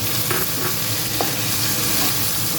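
Chopped tomatoes hit a pan of reddish-fried potatoes for a Bengali banana-flower ghonto, producing a loud, dense, continuous sizzle with a few faint stirring knocks beneath it.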